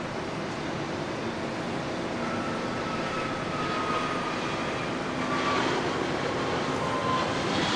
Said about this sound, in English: We've got a Cessna 700 Citation Latitude coming in from Salt Lake City